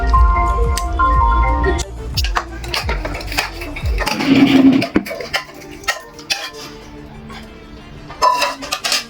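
Mutton tipped into a cooking pot in a home kitchen, giving clattering metal pot and utensil knocks with wet squishy drops, busy and close, followed by scattered clinks and taps.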